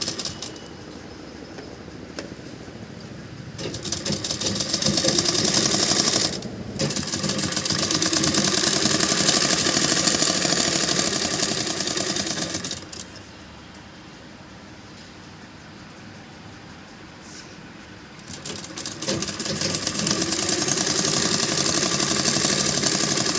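A sewing machine stitches a long straight-cut suit. The motor whirs in long, steady runs of several seconds each, pausing briefly between runs, with no talking over it.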